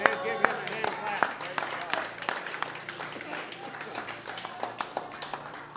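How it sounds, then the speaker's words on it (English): A church congregation at a Sunday service claps hands together, producing a dense, lively patter of many claps that starts strong and gradually thins out. "Give him a hand clap"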